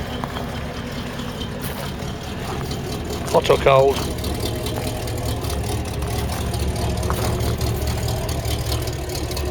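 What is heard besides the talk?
1979 Ford F150 4x4 truck engine starting and idling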